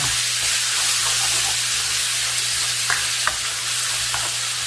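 Meat stir-fries in a pan on an induction cooktop for Korean black bean sauce noodles, a loud steady sizzle with occasional light scraping clicks, no voices present.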